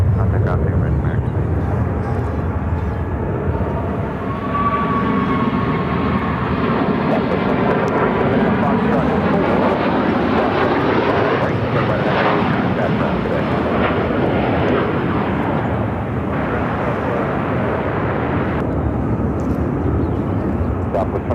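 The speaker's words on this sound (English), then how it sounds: "Air Canada Rouge. Airbus A319 headed to Montreal." An Air Canada Rouge Airbus A319 jet at Phoenix airport, bound for Montreal, produces a loud sustained engine roar with a rising, sweeping whine as it passes close by, with someone talking over it.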